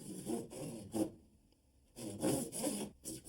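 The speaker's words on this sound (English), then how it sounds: "The PVC saw is made just for this. Just steady pull back and forth." A handsaw built for PVC cuts through plastic pipe in steady back-and-forth strokes, a close rasping rhythm of about six strokes with a short pause midway.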